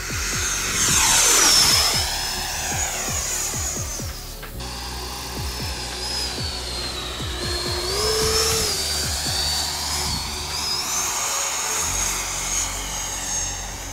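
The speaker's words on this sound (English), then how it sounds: "as we're seeing here, this jet flies f***ing incredible" A Freewing F-16 RC jet with a 90mm electric ducted fan on an 8-cell system flies past, its high whine sweeping up and down in pitch as it approaches and recedes, loud and continuous outdoors with no talk.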